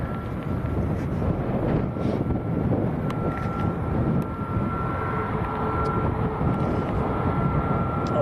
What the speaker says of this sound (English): this is Ryanair to Milan. This is a Max. Maltese registered.